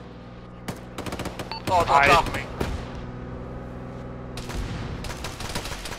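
Bursts of Bradley fighting vehicle cannon and machine-gun fire in a military video game rattle out near and loud, with rapid shots clustered around a heavy volley, while a voice talks over the battle.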